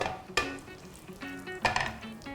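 Dried red chilies hit hot oil for a sour-sweet potato curry, giving two sharp sizzling bursts over a steady crackle of frying, close and fairly loud, with no talking.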